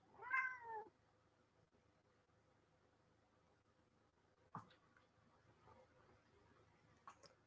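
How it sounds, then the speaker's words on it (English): A Siamese cat gives one clear meow up close, followed by quiet room tone with a soft thump and a few faint small noises. "I will be interrupted by this Siamese cat"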